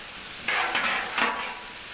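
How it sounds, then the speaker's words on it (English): Bacon and vegetables sizzle and crackle on a hot Camp Chef flat-top griddle, with two brief louder swells of hissing as they are stirred and tossed. "cook them with the bacon and just give them a nice sizzle"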